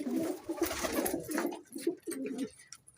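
Pigeons received as a birthday gift in boxes coo softly and repeatedly at close range, a run of low throaty rolling coos with short gaps, no talk heard.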